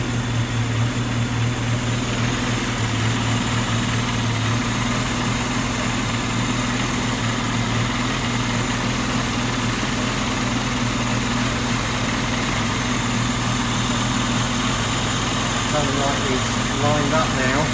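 Car engine idling steadily on a rolling road dyno during a timing tune-up, a constant low rumble throughout, close and fairly loud with a voice talking over it.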